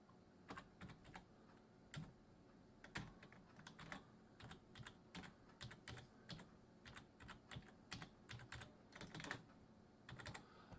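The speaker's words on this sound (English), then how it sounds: "I'll just type the password in." Steady run of computer keyboard keystrokes as a password is typed, soft clicks in uneven bursts with brief pauses, close and fairly quiet, no voices.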